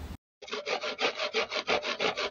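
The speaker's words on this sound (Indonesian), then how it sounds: "ini lagi ada gergaji" A saw cutting close by in rapid, steady back-and-forth strokes, about ten rasping passes after a brief silent gap at the start, loud and alone with no voices.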